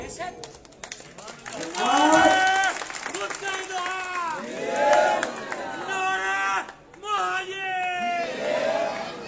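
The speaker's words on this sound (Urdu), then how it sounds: "میرے خیال میں تھوڑا سا نعرے بازی کو ابھی روکتے ہیں" A crowd at a political gathering in PIB Colony chanting slogans: loud, rhythmic massed voices in repeated call-and-response phrases, with shouts and some clapping, filling the space around the listener.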